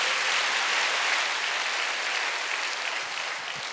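Church congregation applauding during a Sunday service, a loud, dense, continuous roar of many hands clapping that tapers slightly toward the end.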